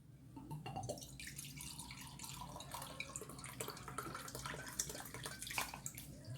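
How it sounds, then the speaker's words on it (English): Sherry is poured to fill a container in a kitchen, a quiet continuous splashing and trickling of liquid with small dripping sounds, close up and without talk. "And I am filling the other one up with sherry."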